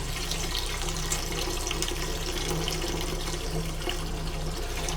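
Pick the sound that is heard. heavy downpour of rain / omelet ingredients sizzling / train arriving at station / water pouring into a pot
water pouring into a pot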